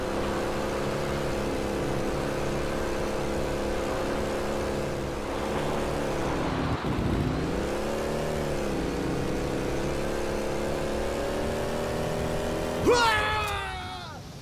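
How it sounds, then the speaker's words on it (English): A Mars rover-style vehicle ride in the video game Halo 3, with a steady engine hum that rises and falls in pitch, fairly quiet, ending in a brief sharp burst near the close. "Fancy a Mars rover ride?"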